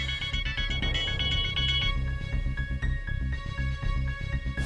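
An incoming call rings on a phone in a Hindi TV drama scene, a loud electronic ringtone with a repeating melodic pattern over background music, steady throughout.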